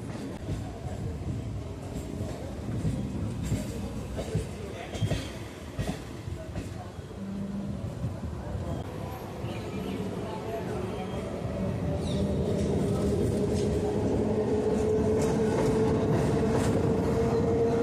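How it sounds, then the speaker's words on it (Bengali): Majerhat to Barasat local train pulling out of Majerhat station, with a steady low rumble and rattling wheels that builds as it gathers speed, and a rising whine emerging near the end; voices are heard faintly under the noise. "এখন আমাদের ট্রেন মাঝেরহাট স্টেশন ছেড়ে বেরিয়ে যাচ্ছে"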